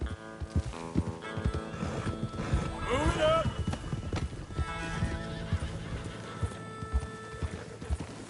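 Horses in Red Dead Redemption 2 whinny and clop along at a steady walking rhythm, hooves close and distinct, while someone speaks briefly over the animals and their tack.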